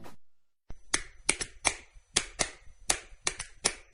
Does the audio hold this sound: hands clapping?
yes